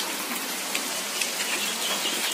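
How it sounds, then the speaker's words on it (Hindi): Heavy monsoon rain pours steadily outside a veranda, a dense, even hiss of falling water with scattered droplet taps, continuous and fairly close for the whole stretch with no voices. "बरसात अखन बहुत पानी पड़ रहा है"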